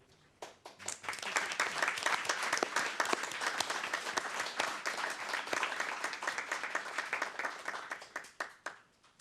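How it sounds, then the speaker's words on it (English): An audience at a city council meeting breaks into sustained applause, dense clapping swelling quickly, holding steady for several seconds and then thinning to a few scattered claps. "Yeah, you keep on clapping."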